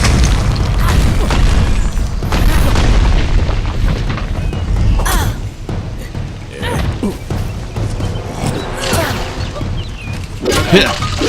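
An enemy blowing up in the fantasy action game Kingdoms of Amalur, heavy booming blasts and crashes with layered impact noise, rumbling through the scene while a player talks now and then.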